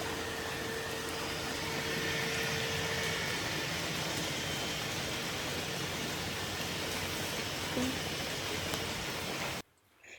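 Heavy rain falls in a steady, dense hiss that holds for about nine seconds, then drops away abruptly at the end.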